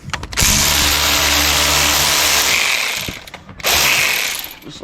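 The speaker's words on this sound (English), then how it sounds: "should just be as simple as undoing those two bolts there up the top" Bolts being undone on a Toyota Land Cruiser wheel hub with a ratchet, a loud close mechanical whirring and clicking run that pauses briefly and then resumes.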